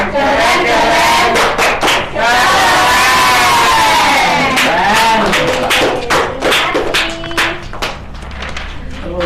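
A classroom of children shout a rhythmic clap chant together, loud and close, with bursts of voices and sharp claps in quick succession, a teacher's voice leading between the rounds.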